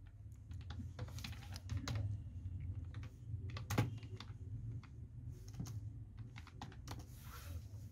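Steady typing on a computer keyboard while writing linear regression code, quick clustered keystrokes over a low background hum, with no talking.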